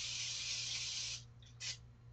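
Pam cooking spray hisses in a steady, loud burst for about a second into a nonstick pan, followed by two short spritzes, with no talk.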